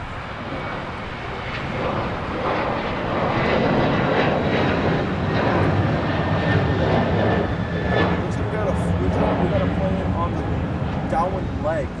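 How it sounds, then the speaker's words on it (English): China Eastern Boeing 777-300ER jet airliner passing overhead on the downwind leg near LAX, a loud, steady engine roar sustained throughout with a person talking over it. "No, it's China Eastern 777-300ER."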